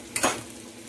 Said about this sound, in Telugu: ఇది ఇలా వేపుకుంటూనే ఉండాలండి, లైట్ బ్రౌనిష్ కలర్ వచ్చే వరకు వేపుకోవాలి